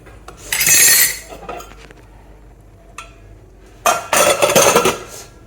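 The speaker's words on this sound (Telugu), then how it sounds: "కుక్కర్ మూత పెట్టేసేసుకొని" A metal pressure cooker lid is fitted onto the pot of chickpea curry with two bursts of close, loud metallic scraping and clanking separated by a quiet pause. No voices are heard.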